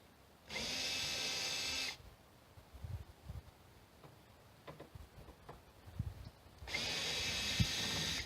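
A power drill whirs loudly in two bursts, one at the start and one at the end, with scattered clicks and handling knocks in between, while removing a Mustang's convertible top.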